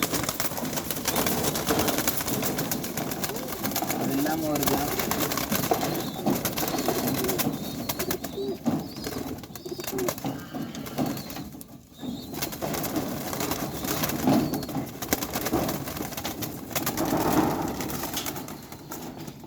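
Racing pigeons coo softly in a loft amid a dense, rustling background, with low murmuring calls and occasional wing flutters, while a person talks throughout.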